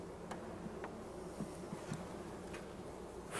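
Honeybees buzz steadily inside an opened beehive while their hive is being worked, a soft, continuous low hum with a few brief louder passes.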